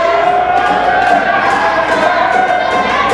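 At a UCW-Zero wrestling event, the arena crowd roars and cheers in a steady, loud wall of voices with scattered shouts rising above it.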